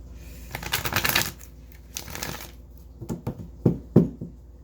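A deck of tarot cards is shuffled in a quick riffling burst, followed by a few softer taps and slaps as the cards are squared up.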